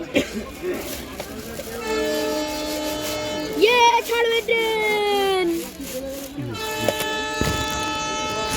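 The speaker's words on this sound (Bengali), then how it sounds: "ছাড়বে ট্রেন" A train on the point of departing sounds long, loud horn blasts with steady tones that rise and fall, over a busy rail background with people talking nearby.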